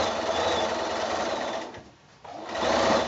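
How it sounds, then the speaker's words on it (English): Sewing machine fitted with a walking foot quilting a shoulder bag, a steady loud motor drone running continuously, briefly easing off near the middle before picking back up to full speed. "So that's the first row of sewing done."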